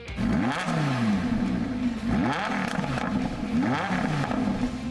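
A car engine on its stock exhaust revs in repeated rising and falling sweeps, about three surges over several seconds, loud and close, with mechanical clatter underneath and no talking.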